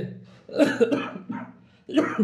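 A few harsh, bursting coughs from a patient who struggles to breathe come in quick clusters at close range, separated by brief pauses, with a voice mixed in.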